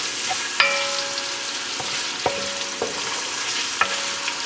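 Pork fries in a pan with a steady sizzle while a utensil stirs it, scraping and clacking against the pan several times.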